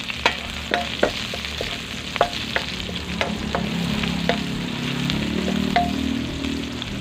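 Onions and baluga chili peppers sizzle and fry in a hot pan of garlic, steady and close, with a few sharp clinks of a utensil stirring against the pan.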